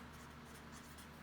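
A teacher writes the number 600 during a second-grade lesson, a faint, steady scratching of a pen or marker on a board, quiet and continuous, with a low hum underneath.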